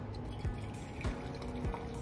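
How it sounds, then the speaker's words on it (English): Hot water poured into a cup over lemon and honey for tea, a steady close liquid stream with soft splashing and a few brief louder gulps, with no talking. "Add the hot water."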